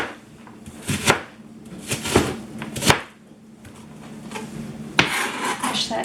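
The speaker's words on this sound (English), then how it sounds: "we're just going to rough chop this" Knife chopping vegetables roughly on a board for chicken noodle soup: a few loud, separate chops spaced about a second apart, then a denser run of quicker cuts, close up with no talking.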